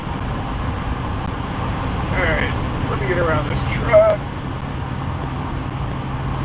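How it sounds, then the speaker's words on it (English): Steady road noise inside a moving car on a road trip, a low, constant rumble and hiss from the tires and engine, with someone talking over it. "there is a lot of road noise in here."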